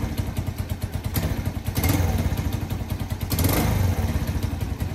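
A motorcycle engine runs through a new Sun Racing exhaust pipe, a steady close idle with a rapid even pulse and two brief swells of revving.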